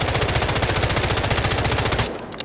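Rapid automatic gunfire from a calibrated weapon in the video game Delta Force, a loud, evenly spaced burst of shots lasting about two seconds before cutting off.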